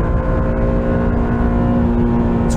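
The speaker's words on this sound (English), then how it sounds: "Floor the throttle, launch mode, here we go." A sports car, a Honda NSX or Nissan GT-R Nismo, launches at full throttle in launch mode, its engine a loud, steady, dense roar held throughout the short burst.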